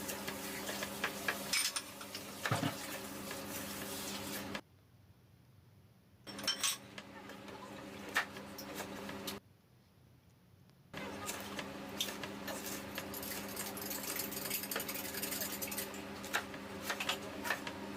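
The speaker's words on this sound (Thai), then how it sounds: "อย่างแรกก็นำพริกหยวกของเรามาหั่นแบบนี้เลยครับ" A knife slices sweet banana peppers on a cutting board while preparing stir-fried pork, heard as a quick series of light taps and clicks over a steady tonal background, broken by short silent gaps.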